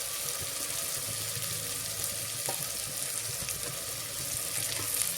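Onion and tomato frying together in a pan for masala rice, a soft even sizzle with a watery hiss and faint stirring, no talking.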